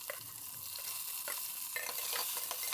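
Close-up sizzling of chopped onion, green chili, ginger, garlic and cumin frying in hot oil, with bright crackle and occasional stirring scrapes, fairly quiet and steady without voices.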